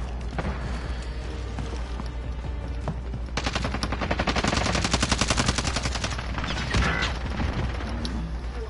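A light machine gun in a video game fires a long, rapid automatic burst, dense evenly spaced shots rising loud in the middle then trailing off, amid steady background game noise.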